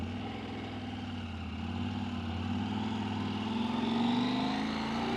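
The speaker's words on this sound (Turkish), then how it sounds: "Apache'liye güzel bir egzoz tonu oldu." An Apache motorcycle's exhaust drones steadily on the road, its engine tone rising slightly and growing a bit louder toward the end, with no voices.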